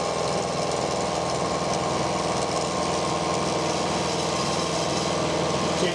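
A carbide milling cutter taking slow cuts to square up the end of a steel box section, making a loud continuous grinding machine whir with a steady rhythmic chatter, close and unbroken.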